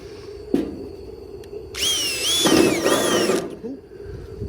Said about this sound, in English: just drill in the middle